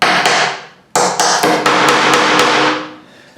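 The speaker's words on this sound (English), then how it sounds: "you can stick a nail down right next to the foot and then just bend it over and use that almost like a staple" A hammer drives a nail into a base right beside the foot of a wire armature: a ringing first strike, a brief pause, then a quick run of close, loud blows that fade out.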